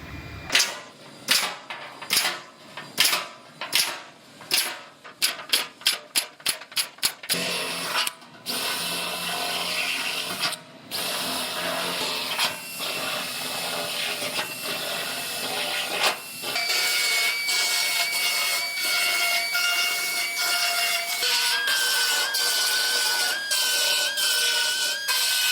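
Power tool cutting plug-weld holes in a new steel floor pan on a rear-ended Toyota, heard first as a quick series of short bursts that speed up, then a long continuous whining grind, close and loud.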